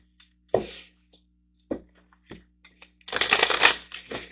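Manifestation cards being shuffled: a couple of brief riffles early on, then a dense, loud burst of rapid papery flicking that runs to the end, close and with no talk.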